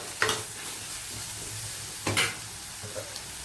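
Tomatoes sautéing in a pan for a spicy fish curry give off a soft, steady sizzle, with a few louder stirring scrapes and crackles standing out over the quiet, close frying hiss.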